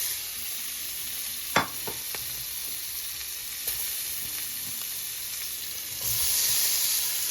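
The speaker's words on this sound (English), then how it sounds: "I'm going to melt it and add my vegetables, which is peppers and onions that we have already prepared" Peppers and onions stir-frying in melted butter in a pan, a steady soft sizzle running throughout with a few sharp clatters of stirring and a brief louder hiss near the end.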